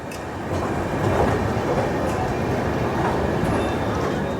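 A train rolls slowly past an underpass under construction on an Indian rail line, a steady dense rumble of wheels and carriages lasting throughout, with faint clicking on top.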